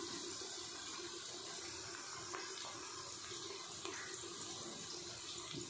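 Water pouring and splashing while preparing rice in a pressure cooker, a steady faint running stream with small clinks, no talking.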